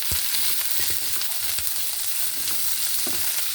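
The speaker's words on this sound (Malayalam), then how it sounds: "അതിലേക്ക് നമുക്ക് ചാമ്പയ്ക്ക ഇട്ട് ഒന്ന് വഴറ്റിയെടുക്കാം." Rose apple sautéing in a pan of hot oil, a loud, continuous, close sizzle marked by a few soft stirring knocks, with no one speaking.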